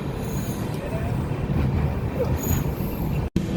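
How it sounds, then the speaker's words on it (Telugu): A passenger train on a journey to Rajahmundry runs steadily after leaving the station, a continuous loud rumble and rattle of wheels and carriages that breaks off briefly near the end. "మొత్తానికి ట్రైన్ అయితే స్టార్ట్ అయిపోయింది"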